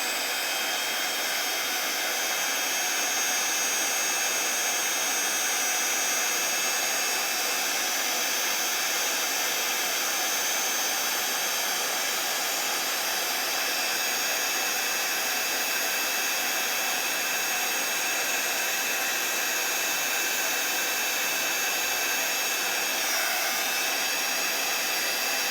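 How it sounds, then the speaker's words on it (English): Heat tool blowing hot air over embossing powder on a card to melt a winter tree border, a steady loud whooshing roar that holds unbroken for the whole stretch with no talk. "Then we'll take our heat tool and just heat this up."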